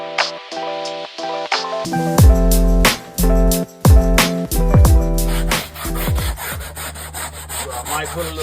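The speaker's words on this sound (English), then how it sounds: "You could do it afterwards, or you could do it while you scrubbing the old fur off." Old headliner fabric being scrubbed off the shell of a 1979 Camaro Z28, heard as loud, repeated rough scraping and rubbing strokes in an uneven rhythm, close by with no talking.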